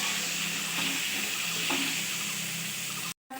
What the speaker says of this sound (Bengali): এবার পরিমাণ মতো নুন হলুদ দিয়ে কাঁকরোলটাকে খুব ভালোভাবে ভেজে নেব।